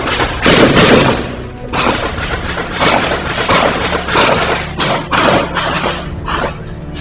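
Gunfire from a police shootout with four suspects in Sorriso, caught on a security camera: loud, sharp bangs in irregular bursts over several seconds, with echoing thuds between shots.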